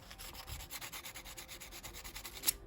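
Sandpaper rubbed back and forth over brass metal, a steady rapid scraping rhythm close up and fairly quiet, ending with a small sharp tap.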